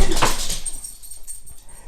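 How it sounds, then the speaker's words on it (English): Dogs knock into studio lights and a microphone stand, a sharp clatter and thump up front that fades into a quieter rustle, with a faint whimper-like sound. "The dogs just ran into the lights and the mic"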